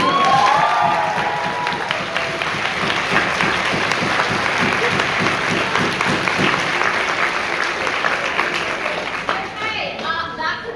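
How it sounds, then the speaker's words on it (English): A university debating society audience gives loud, sustained applause for debate speakers, dense clapping with some cheers and a few voices mixed in, continuing throughout and easing slightly at the end. "Can we just have one more round of applause for all our speakers?"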